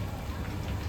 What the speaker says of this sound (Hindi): हमारे इधर तो बारिश आ रही है आज फाइनली।